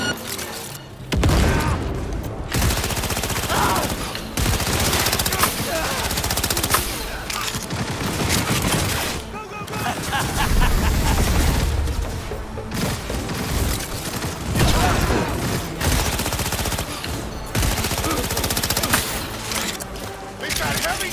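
Heavy gunfire in Cyberpunk 2077 during a chaotic firefight, dense bursts of automatic shots and booming impacts crowding each other almost without pause, with brief gaps and voices shouting beneath the din.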